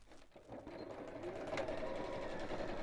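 A sewing machine stitches a tapered dart into a fabric piece for a ladies' evening bag, a steady close whirring run that picks up after a brief start and holds evenly to the end.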